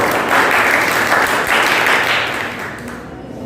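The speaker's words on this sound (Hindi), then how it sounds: "अपने लिए भी एक बार आप जोरदार तालियां।" Loud, dense clapping from students at a school road safety quiz competition, holding strong and then tapering off toward the end.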